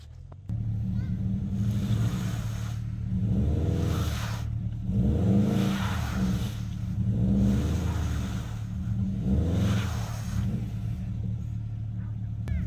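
A car on all-season tires climbs a snowy hill, its engine rumbling steadily close by and surging in repeated revving swells as it pushes uphill.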